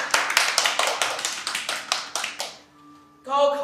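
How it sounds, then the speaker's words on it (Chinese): A classroom group claps for the class monitor in a brisk, steady run of close hand claps that stops abruptly, followed by a short pause and a burst of voices. "给班长掌声鼓励。"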